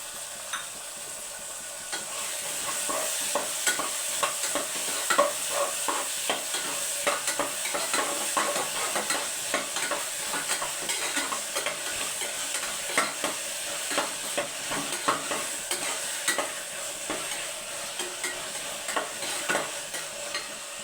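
Beans and peas fry and get stirred in a pan, a steady sizzle with irregular scraping stirs throughout, fairly close and alone.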